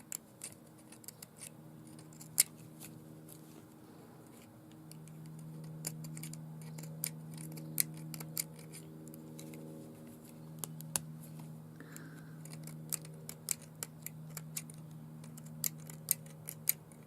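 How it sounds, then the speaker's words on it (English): Scissors snip through sari fabric repeatedly in quick, irregular clicks, close by, over a low steady hum. "I think I'm just going to do it with these scissors."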